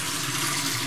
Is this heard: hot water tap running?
yes